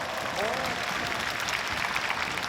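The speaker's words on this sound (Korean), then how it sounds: "손중희 배우님께 박수 한번 부탁드릴게요." A film festival audience at an open talk claps for an actor in a soft, continuous patter, with a voice speaking faintly over it.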